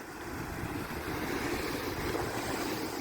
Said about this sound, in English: there's a bit of the water comes rushing through